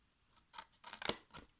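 Scissors cut freehand through a piece of cardboard in a few short, crisp snips close to the listener, with quiet between the cuts.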